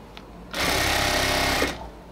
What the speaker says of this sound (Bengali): শুধু ইলাস্টিকটা টেনে সেলাইটা করবেন।